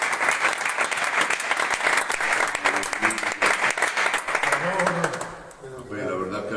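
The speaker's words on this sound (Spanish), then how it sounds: "Un fuerte aplauso a la palabra de Dios" A congregation at a Spanish-language evening church Bible study gives a strong round of applause. Dense, steady clapping fills the room, then fades out as voices take over near the end.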